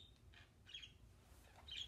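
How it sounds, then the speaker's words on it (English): Several pet birds chirp indoors, brief bright tweets and calls scattered across the moment, moderately near and fairly faint over a low room hum, with no talking. "Y'all hear my birds acting like they on camera?"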